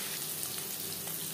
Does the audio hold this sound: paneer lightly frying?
yes